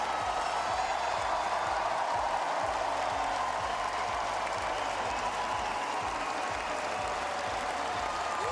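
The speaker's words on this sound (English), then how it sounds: "The British crowd on their feet applauding their queen for the evening." A British crowd at a UCI Track Champions League cycling race applauds steadily, a dense, even wash of clapping that holds at full strength throughout.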